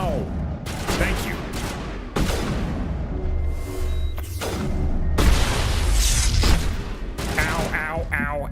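Loud bursts of gunfire in the video game Mass Effect 1, with repeated sharp volleys and booming impacts over several seconds and voices calling out between shots.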